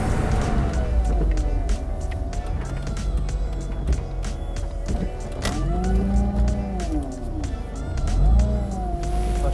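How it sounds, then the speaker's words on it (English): A thin whine from the power steering pump of a 230 whp Mazda Miata NA with the top down at low speed, blended into the steady engine and road noise inside the car. "that would be our power steering pump. Not sure if it's broken or not, but it definitely makes a bit of a whine at low speeds"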